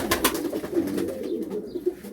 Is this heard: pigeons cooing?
yes